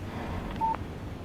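A single short telephone keypad tone in the video game Alan Wake Remastered, a brief clear beep over a low background hum.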